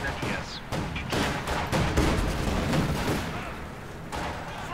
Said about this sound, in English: Look at that coaxial machine gun first burst suppression